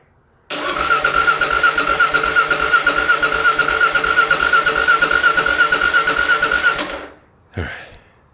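A Kawasaki KLR 650 motorcycle engine fitted with a KLX needle kit cranks and catches, running in a fast steady thumping idle for about six seconds before cutting off, followed by a brief rising rev-like burst, no talk.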